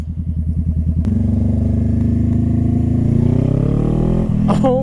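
A motorcycle pulls away after the clutch is released, its engine chugging in a steady pulsing idle before rising into a loud, sustained acceleration close to the microphone, ending with a brief clatter.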